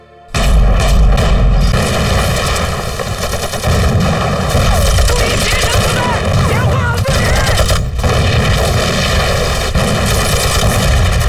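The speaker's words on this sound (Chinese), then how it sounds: "老子的炮声就是向大哥最好的报告" Artillery cannon fire in a war drama set in 1931 makes a loud, continuous barrage of booms and blasts that roars without pause. No one speaks.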